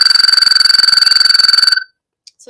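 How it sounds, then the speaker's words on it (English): American toad call played from a recording: a loud, close, rapid pulsing trill on a steady pitch that runs for under two seconds and cuts off abruptly, followed by near silence. "So that is the American toad."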